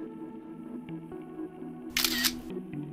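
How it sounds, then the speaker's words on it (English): An iPhone screenshot shutter sound effect plays once, a short bright camera-click burst over a low steady hum of background music or noise. "you'll see a white flash appear on your screen, as well as a shutter sound effect if your ringer switch is turned upwards"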